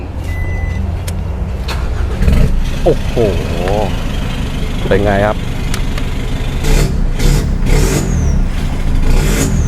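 An Isuzu Cab4 1.9 pickup's engine idles and then revs a few times, the exhaust rising and falling, with someone speaking briefly over it.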